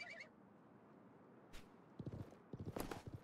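Horse hooves clip-clop in the video game Live A Live, a quick burst of soft clattering steps arriving after a quiet stretch, faint and low in the mix.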